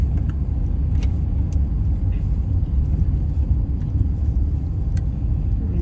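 Rush hour traffic in Denver, Colorado, a dense, continuous low rumble of many cars heard from a distance, steady throughout with faint higher clicks and no voices.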